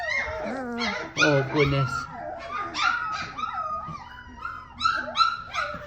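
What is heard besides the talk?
Griffon puppies whimpering and howling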